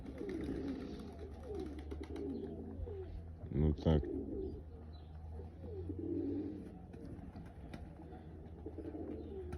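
Soft cooing of Mykolaiv breed pigeons murmurs through the background alongside a brief spoken remark, with a short louder burst of sound near the middle.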